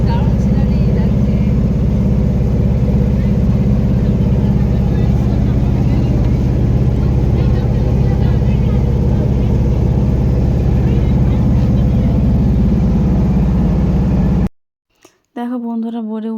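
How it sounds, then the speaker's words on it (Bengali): Steady, loud engine drone of a boat carrying passengers across the river to Umananda temple, continuous for most of the ride before cutting out near the end, with a voice talking over it. "দেখো নৌকা করে এখন যাচ্ছি মন্দিরে, দেখো নৌকা করে কি দারুণ সিনারি লাগছে"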